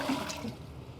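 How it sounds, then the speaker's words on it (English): Water poured into a pot of vegetable scraps to make a vegetable stock, a steady, close rushing splash that runs at an even level throughout. "we're going to add the water and boil it into basically a veg stock"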